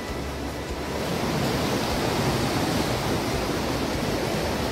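The swollen Ganga rushes at the Devprayag confluence of the Alaknanda and Bhagirathi rivers, making a continuous, dense roar of churning water that stays loud and unbroken throughout, with no voices.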